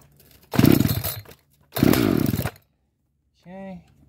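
Two rough, ragged bursts of an Echo CS-590 Timberwolf chainsaw's small two-stroke engine catching and sputtering out on choke, each about a second long, followed by a brief voice.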